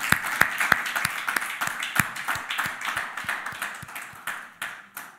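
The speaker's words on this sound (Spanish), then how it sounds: "Demos un aplauso fuerte" Sparse, uneven clapping from a small church congregation at a Sunday service, individual sharp claps standing out in a loose, irregular rhythm that thins out toward the end.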